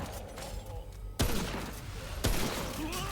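Gunfire in the shooter game Remnant: From the Ashes: two sharp, loud shots about a second apart crack over a murmur of game ambience.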